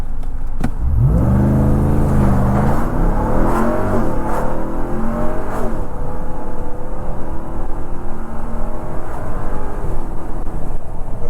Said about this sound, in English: We're in sport mode. I'm gonna hit the launch button again.